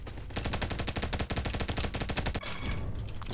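TAR-21 assault rifle in the shooter game Bad Business fires in one rapid, continuous automatic stream of sharp close cracks for about two seconds, then stops.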